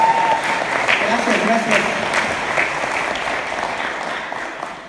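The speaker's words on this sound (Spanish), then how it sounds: "Dale otro aplauso al Señor por la vida del pastor Juan." Church congregation applauding, a loud dense burst of many hands clapping that gradually tapers, with a voice briefly speaking over it.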